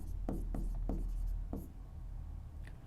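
A pen scratches on paper while a maths problem on dividend income is written out. Several short, close strokes come in quick bursts over a low steady hum, with no talk.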